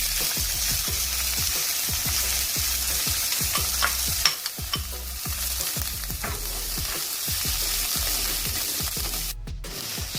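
Capsicum sautéing lightly in a teaspoon of cooking oil for vegetable macaroni, a steady close sizzle with repeated rhythmic scrapes and stirs of a spoon against the pan throughout.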